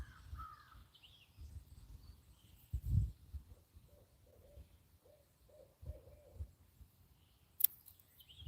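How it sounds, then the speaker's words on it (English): An owl hoots outdoors on quiet rural land: a faint, distant series of short, evenly spaced low calls, with soft rustling, a few bumps and a sharp click around them. "I don't know if y'all just heard that owl."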